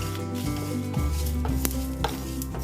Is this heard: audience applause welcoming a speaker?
no